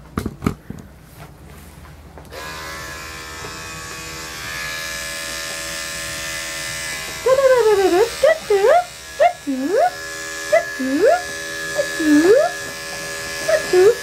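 Electric dog clippers with a 10 blade buzz steadily near a Shih Tzu's eye area, a constant close hum running throughout, joined in the latter half by a series of short whining or squeaking sounds.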